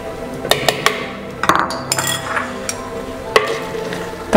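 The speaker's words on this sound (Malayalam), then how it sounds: "ഒന്ന് ഇളക്കാം." Tomato and green chilli stirred in a pan for a spinach aviyal curry: several sharp utensil clinks against the pan over a soft stirring scrape, close and fairly quiet, with no voices.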